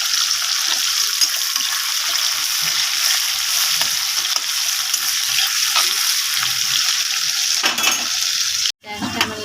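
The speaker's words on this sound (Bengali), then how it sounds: "পেঁয়াজটা তেলের মধ্যে ছেড়ে দেবো।" Small onions frying in hot oil for a fish and potato curry, a strong continuous close sizzle that briefly cuts out near the end before resuming, no speech.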